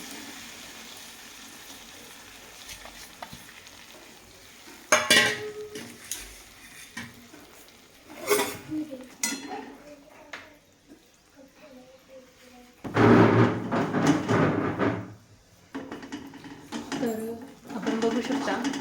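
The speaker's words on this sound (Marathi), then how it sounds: "गूळ आपला हळूहळू मेल्ट होत आहे तर त्याला आपण असं फिरवत राहूया" Stirring melting jaggery in a pan, with several bursts of scraping and clinking of a utensil against metal over a soft background, interspersed with a person speaking.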